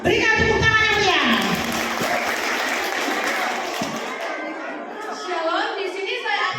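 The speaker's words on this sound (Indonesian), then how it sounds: "Berikan tepuk tangan yang meriah." Audience applause at a church worship service and Ascension Day celebration, a dense wash of clapping that fills most of the clip and thins toward the end, with children's voices and crowd chatter mixed in.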